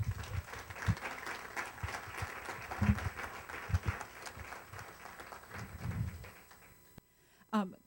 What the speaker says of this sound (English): So please, another round of applause for Marilyn Barnewall.